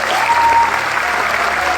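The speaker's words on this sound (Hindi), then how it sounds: "प्लीज उनके लिए ताली बजाइए।" Audience applause at CSC Diwas 2025 in the Yashobhoomi Convention Centre, New Delhi: a large hall full of steady, dense clapping, with a brief thin tone sliding in near the start.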